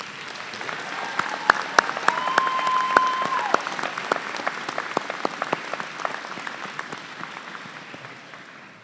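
Graduates and guests at a University of Mary Washington graduate commencement applaud family members, a dense burst of clapping from a large crowd that swells, holds steady and slowly thins out over several seconds.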